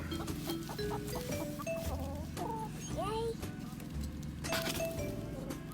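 Chickens on a homestead cluck repeatedly in short, bright calls, steady and fairly close, over a busy background with faint voices.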